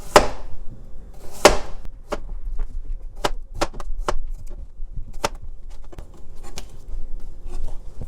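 A knife cuts through tomatoes on a board while preparing attieke, giving a series of sharp, separate chopping taps at an uneven pace, close and fairly crisp.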